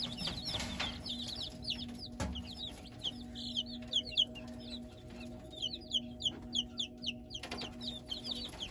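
Small chicks peep in quick, high, scattered chirps close by, with a steady low hum underneath and one brief thump partway through.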